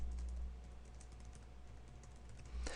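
Computer keyboard typing code, a soft, fast patter of keystrokes over a steady low hum, close and fairly quiet, with no talking.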